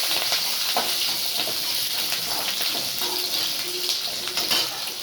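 Garlic and curry leaves frying in hot oil in a pan for a garlic kara kuzhambu. A steady, dense sizzle runs throughout with small crackles and pops, close and fairly loud, with no talking.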